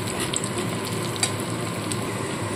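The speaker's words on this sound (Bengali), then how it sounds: "রসুনটা দিয়েও একটু নাড়াচাড়া করে নেব।" Whole garlic cloves are stir-fried with chicken in a pan, making a steady close sizzle with light scraping and a few clicks of the spatula.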